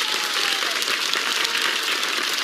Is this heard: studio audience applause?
yes